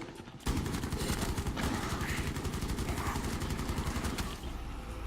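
Dense automatic gunfire from the video game Rainbow Six Siege, Chimera mode, with rapid, unbroken bursts of shots rattling loudly for several seconds amid chaotic combat.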